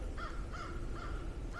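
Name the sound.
crows cawing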